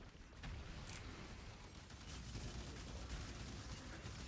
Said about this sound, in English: so we're going to go and detonate